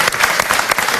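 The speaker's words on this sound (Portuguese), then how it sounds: "Uma salva de palmas, faz favor." Audience applause, a brief dense burst of clapping from a crowd, loud and close.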